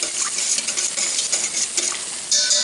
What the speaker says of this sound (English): you can use a fork or whatever, and I'm going to mix that together